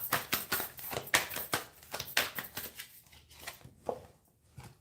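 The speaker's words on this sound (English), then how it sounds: "I'm going to shuffle because maybe I need to shuffle better" Tarot cards shuffled by hand: a quick run of crisp papery riffles and slaps in an uneven rhythm, close and fairly soft, fading to a few sparse taps near the end.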